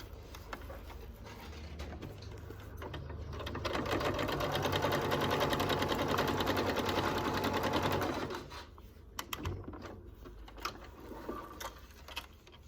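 A domestic sewing machine quilts a UFO-pattern quilt, its needle chattering in a steady rapid run that grows louder for several seconds, then stops, leaving quiet handling sounds.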